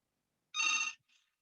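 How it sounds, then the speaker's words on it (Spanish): A telephone rings once in a short bright electronic trill, followed by a faint partial ring, alone in an otherwise silent room. "Está sonando el teléfono, déjame un segundo."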